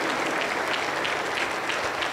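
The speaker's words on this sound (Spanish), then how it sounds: "aplauso para el Señor Jesús" Steady, dense applause from a congregation at a Pentecostal church service, many hands clapping together continuously at an even, fairly loud level with no pauses.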